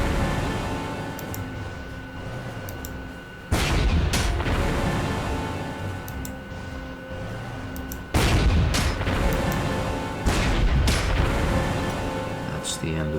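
Tank gunfire from the IVG prototype tank in the WWII strategy game Panzer Corps 2, set around Kiev in 1941: several heavy booming shots with rolling echoes over a steady game soundtrack.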